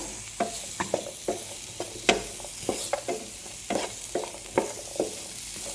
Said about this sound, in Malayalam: ചേന ഇതിലേക്ക് ഇട്ട് കൊടുക്കുക ഇത് നന്നായി ഇളക്കി യോജിപ്പിക്കുക